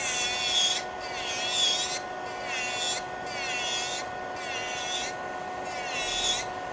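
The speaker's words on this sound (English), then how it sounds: "So just filing down most of the product." Acrylic nail product being filed down with a file bit, giving repeated rasping strokes in steady bursts about a second apart, close and fairly loud over a constant background hum.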